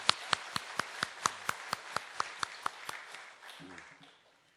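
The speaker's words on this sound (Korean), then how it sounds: "박수로 환영하겠습니다" A church congregation claps in a Sunday service to welcome a visiting family, a spread-out, distant patter of about a dozen hand claps in a steady beat that fades, with a brief voice at the end.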